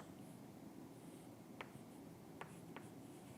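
Numbers being written out during a math lesson on fractions, likely pen or marker on a board, heard as a few faint, brief scratches over a steady room hiss with no talking.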